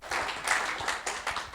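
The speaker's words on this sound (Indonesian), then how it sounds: "kita berikan tepuk tangan yang paling meriah buat" A church audience gives brief applause during a sermon, a short burst of rhythmic clapping in quick pulses, moderately loud and somewhat distant, with a faint voice underneath.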